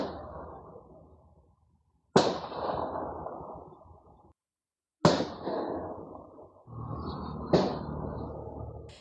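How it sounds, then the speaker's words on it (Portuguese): Gunshots at a house, picked up by a neighbour's security camera: three or four sharp, distant cracks, each followed by a long booming echo, with silence between them. "Uma câmera de segurança de um vizinho captou o som dos tiros disparados na casa onde o casal morava antes da separação"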